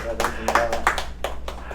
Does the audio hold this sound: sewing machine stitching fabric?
no